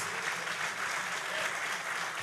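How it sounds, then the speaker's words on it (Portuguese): Steady applause from a church congregation, a dense wash of clapping that stays even and fairly distant throughout, with no voices standing out. "E aproveite uma forte salva de palmas ao Senhor Jesus Cristo"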